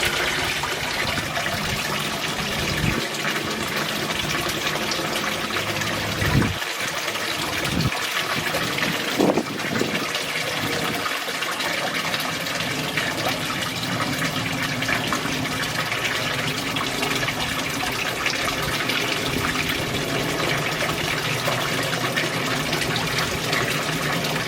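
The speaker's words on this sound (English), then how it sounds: "So that's how it sounds as the Waterfall stands" Water pours steadily over a wide stainless steel waterfall spillway, a continuous broad splashing rush heard up close, with a few faint knocks early on and no talking.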